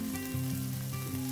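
Tomatoes fry in a hot pan for ampalaya with egg, giving a close, steady sizzle with faint crackling throughout this short moment.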